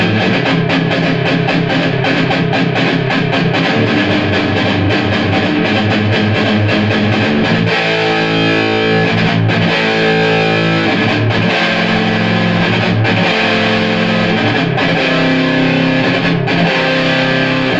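Heavily distorted electric guitar riffs played through the dirty channel of a 1998 Rivera Knuckle Head 100 amplifier, pushed by a wah booster, with loud chugging rhythmic chords and sharp breaks throughout, with no talking.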